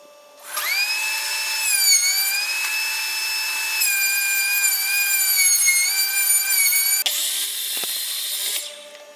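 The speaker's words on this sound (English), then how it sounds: "it's all going through the planer right now" A power wood planer feeds a 2x4 board through with a loud, steady high-pitched whine that wavers slightly as the cut runs, then shifts pitch near the end before stopping.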